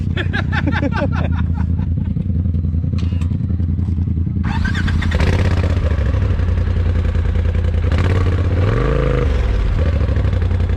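A loud UTV engine with a quiet exhaust setting revs a few times in rising bursts, then settles into a steady close idle with a brief throttle swell near the end.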